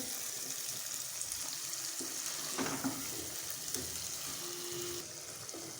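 Spicy potato curry being stirred and mixed in a pan, a soft low sizzle with a few spoon scrapes and clinks, fairly quiet and close with no talking.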